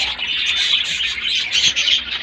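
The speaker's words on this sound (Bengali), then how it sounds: "এই দুটো হলো আমার সবচেয়ে পুরনো কবুতর" Pet pigeons kept in a home loft give a steady stream of high, busy chirping calls, fairly close and continuous with no speech.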